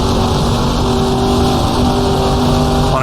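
A 1966 Ferrari sports racing car engine in the GTR2 racing game holds a loud, steady drone at high revs in fourth gear, continuous and close with no pauses.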